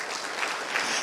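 A congregation applauds during a morning prayer service, a soft, even wash of clapping heard a little way off, with no talking on top.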